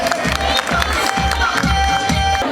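Dense, continuous applause and crowd noise fills a large women's function, steady and loud throughout, with low rumbling and a few faint voices mixed into the clapping.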